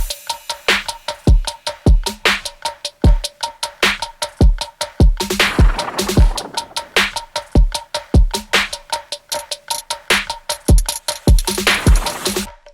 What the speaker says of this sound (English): All the drums without the clipper, then adding it in sounds like this.